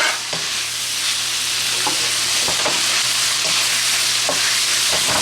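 Shrimp and carrots frying in a pan for fried rice, a dense continuous sizzle close by with repeated scraping stirs of a utensil every second or so, no voices.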